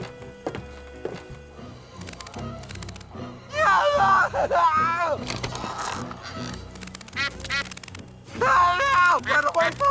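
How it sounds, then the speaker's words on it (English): Cartoonish duck quacks from the video game Escape From Monkey Island, loud, repeated bursts of honking quacks over background game music and effects, growing more frantic toward the end. "You crazy duck!"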